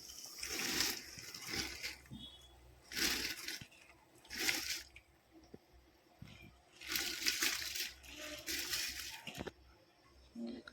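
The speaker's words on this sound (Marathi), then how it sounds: "आता आपण पाण्यामध्ये तांदूळ घालायचा" Soaked, washed rice goes into a pot of boiling water for chicken biryani, giving several quiet, separate splashing and pouring bursts with gaps between them and no voices.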